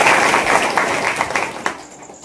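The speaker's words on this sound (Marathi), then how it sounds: "त्यांच्याबद्दल एकदा टाळ्या वाजवा." A crowd at a village meeting in Umarga claps together in a dense burst of applause that rises and then thins out with a few last claps, fairly loud and near.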